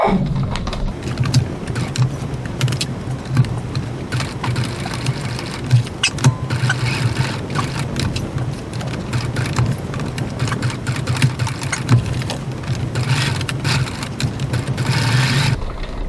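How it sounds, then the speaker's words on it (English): A sewing machine stitches a rectangular box in black thread, running in a steady, fast mechanical whir with rapid needle clatter, close and continuous throughout. "now I'm going to stitch my rectangular box"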